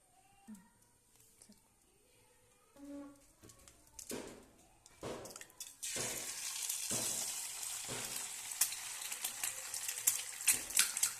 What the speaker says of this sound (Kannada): ಒಂದು ಚಮಚ ಎಣ್ಣೆ ಹಾಕ್ಕೊಂಡು ಎಣ್ಣೆ ಕಾದ ನಂತರ 2 ಮೊಟ್ಟೆ ಹಾಕಿ ಫ್ರೈ ಮಾಡ್ಕೊಳ್ಳೋಣ